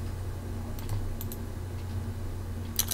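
Several sharp, sparse clicks of a computer mouse over a low electrical hum, a few isolated taps with a small cluster near the end, close and without talk.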